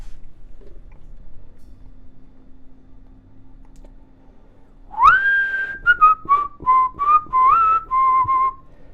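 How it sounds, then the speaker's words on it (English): A man whistles a short wavering tune of several clear, close notes in a quiet room, loud and alone after a near-silent lead-in. "I don't like it when he whistles."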